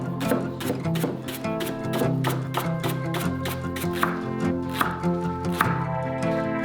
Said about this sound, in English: Take 1 leek and slice it into rings.